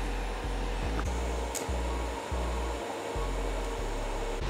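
TIG welder tacking turbo engine parts, a steady loud electrical hiss and hum with a low buzz that pulses on and off roughly every second, close by and without talk.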